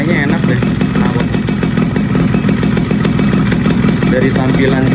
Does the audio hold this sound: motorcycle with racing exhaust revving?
yes